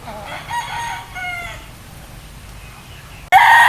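A breeding rooster crows near by, a loud drawn-out call broken into a few rising and falling phrases, followed by a sudden louder burst of clucking or calling at the end.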